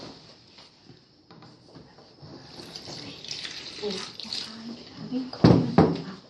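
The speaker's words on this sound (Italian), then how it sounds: "si mette un po' di acqua" Warm water trickles and splashes into a well in a bowl of flour and salt, building louder toward the end, with a few soft knocks and a voice speaking quietly in the background.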